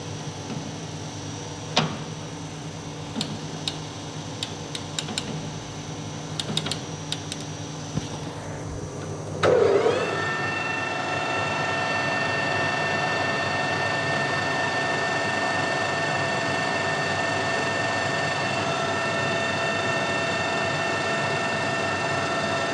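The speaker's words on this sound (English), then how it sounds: "Gearbox is lovely and quiet." A Colchester Master 2500 lathe gearbox runs under variable-frequency-drive control, first as an intermittent ticking hum, then spinning up into a steady, smooth mechanical whine with sustained tonal overtones that carries evenly to the end.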